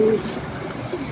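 Kalibaga pigeons, a male and a female, give a short low coo up close, then fainter murmuring coos against a quiet indoor background.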